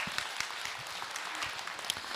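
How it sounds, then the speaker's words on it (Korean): Audience applause at a Buddhist monk's Dharma talk, a soft, distant, continuous patter of many hands clapping, faint and even throughout. "박수를 맞으세요"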